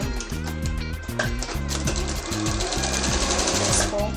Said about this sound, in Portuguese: Vou continuar com a minha costura